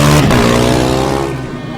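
A Delft Formula Student race car starts a flying lap in the FSG endurance finals, its engine snarling loud and close in a high revving pitch, then easing off and fading slightly within two seconds.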